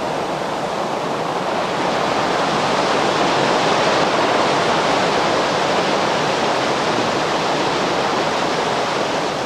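Water of the Vologne, a mountain stream, rushes and splashes continuously near its confluence, a loud, close, unbroken churning roar with no voices.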